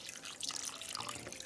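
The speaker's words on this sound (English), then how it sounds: "So let's add our coconut milk." Coconut milk poured into a pot of fish curry with mango and tomato, a short close liquid pour with soft splashing and trickling, alone without speech.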